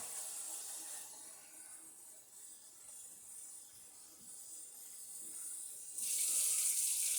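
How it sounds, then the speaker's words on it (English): Water from a kitchen tap runs into a measuring cup in a steady hiss, dipping slightly, then surging louder near the end, with no talking. "Take my measuring cup out, and we will add some water here."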